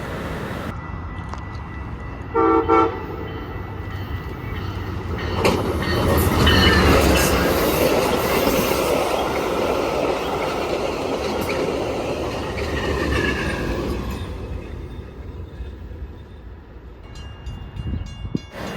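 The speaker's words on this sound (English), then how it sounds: "Amtrak Hiawatha 333 flies past Lake Cook Road with Amtrak 164" An Amtrak Hiawatha passenger train speeds past Lake Cook Road in push mode with a locomotive on the rear, making a loud sustained rumble and rush of wheels on rail with rhythmic clicks and a brief metallic squeal, heard alone.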